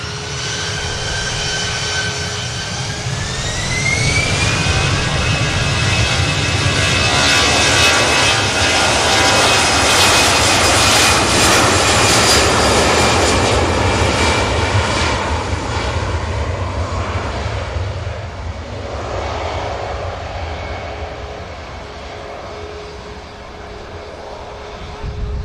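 A jet airliner takes off at an airport bound for Paris, its engine roar building from a rising whine to a loud, sustained blast, then slowly fading into the distance.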